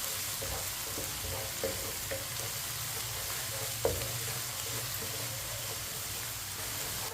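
Ginger and garlic fry in a pan, a steady soft sizzle with occasional light stirring scrapes, close and continuous at low level, with no voices.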